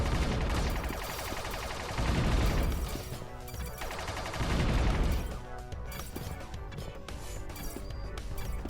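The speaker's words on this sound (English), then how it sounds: "And now we've got the gun that I really like. The laser SMG." A laser SMG fires in rapid bursts in A.R.E.S., a dense stream of zapping shots that swell and fade in waves over a steady background of game sound effects.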